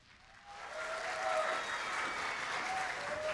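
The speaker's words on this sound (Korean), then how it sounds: "두 번째 팀 한민고등학교를 박수로 맞아주시기 바랍니다." A school audience at a Korean high-school competition breaks into applause to welcome a team, the clapping swelling quickly from quiet to a steady, full crowd sound with a few faint tones above it.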